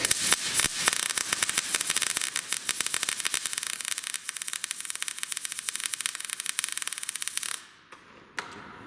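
A MIG welder short arc welding with too little wire speed gives a harsh, loud crackling sizzle with irregular popping for about seven seconds, then the arc cuts out to near quiet.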